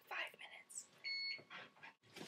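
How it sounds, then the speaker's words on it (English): Kitchen stove beeping a short steady tone, heard near and at moderate level amid someone talking in a home kitchen while cooking steak, potatoes and Brussels sprouts. "My stove just like beeped at me"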